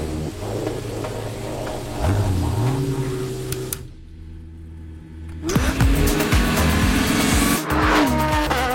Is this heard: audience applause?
no